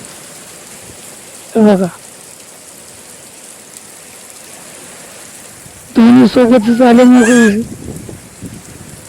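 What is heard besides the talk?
heavy rain with strong wind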